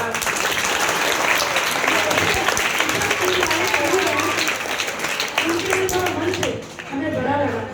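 An audience at a poetry gathering claps loudly and continuously for a student's recited poem, a dense, sustained applause with voices talking over it before it thins out near the end.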